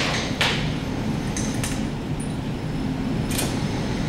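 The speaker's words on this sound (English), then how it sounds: "Here I'm just going to center punch the center, so when I drill it, my drill's not going to wander." A few sharp metallic taps of a hammer on a center punch into metal, spaced apart, over a steady low background hum in a workshop.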